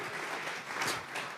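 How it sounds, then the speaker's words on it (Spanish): A church congregation gives an offering of applause during a sermon, a brief burst of soft, distant clapping with no voices over it. "Vamos a regalarle ofrenda de palmas al Dios de la gloria"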